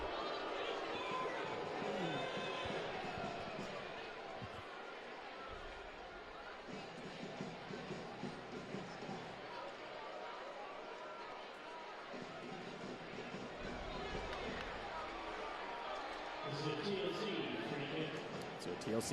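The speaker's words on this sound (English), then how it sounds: "The crowd definitely telling Herrera how they feel right now." Stadium crowd noise during a New Mexico v Colorado Springs Switchbacks soccer match, a steady dense roar of voices jeering a player, with a surge of louder reaction near the end and commentary speech over it.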